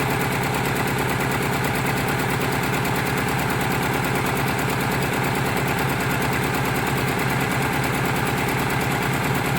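A 1990 Eagle Talon TSI engine runs after sitting for 19 years, with no coolant and a misfire, idling loudly and steadily up close with a rough, uneven pulsing chug throughout.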